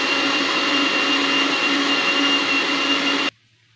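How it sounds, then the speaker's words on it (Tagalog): A kitchen blender whirs steadily at high speed through carrot, cucumber and a little water for a smoothie, a loud constant motor drone that cuts off abruptly near the end. "Tapos i-blender na natin."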